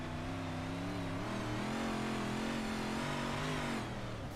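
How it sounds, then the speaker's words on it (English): Modified race car engine heard onboard, loud sustained revving with rising and falling pitch, close and continuous before a brief ease at the end. "Let's have a listen to the engine again."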